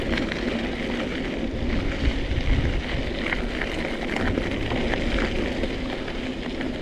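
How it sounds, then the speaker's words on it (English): Steady rain falls on an outdoor trail during a mountain bike ride, a dense continuous hiss with scattered drops and a low rumble underneath, fairly loud and unbroken. "It's really starting to rain over there."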